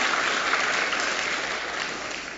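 A church congregation applauding during a Sunday morning worship service, a dense wash of many hands clapping that fills the moment steadily and then tapers slightly toward the end.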